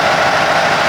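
Mack V8 truck engine idling steadily with the revs lifted slightly by hand throttle, a loud, even, continuous rumble with no voices.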